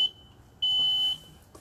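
A loud, shrill electronic alarm tone from a motion-triggered perimeter security lantern sounds steadily for about half a second, preceded and followed by softer beeps, with no talking.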